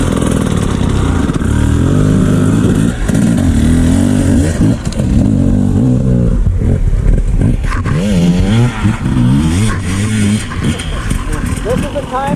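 A hard enduro motorcycle on a rocky training section, its engine revving and bogging in uneven bursts close by, with someone talking over the machine throughout.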